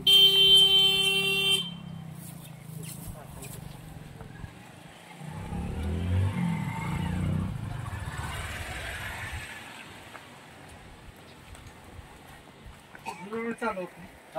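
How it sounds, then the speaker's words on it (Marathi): A vehicle horn blares loudly at the start, then an engine rumbles and revs closer for a few seconds before fading, with people talking throughout and another short horn toot near the end. "हो गाडी आली."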